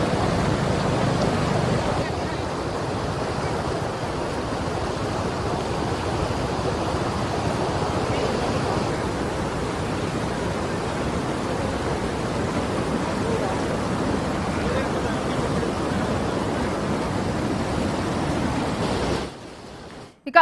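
Floodwater rushes through a swollen forest stream in Paderu, where a young man on a bike was caught crossing. The roar is steady, broadband and close, holds for about nineteen seconds and then drops away abruptly.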